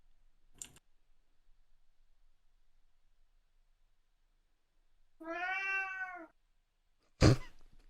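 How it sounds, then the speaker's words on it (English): A single cat lets out one clear, drawn-out meow at night, heard close and alone, with sharp clicks and taps before and after it. "Cats are really singing tonight."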